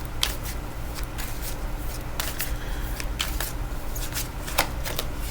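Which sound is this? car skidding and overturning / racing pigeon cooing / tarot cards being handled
tarot cards being handled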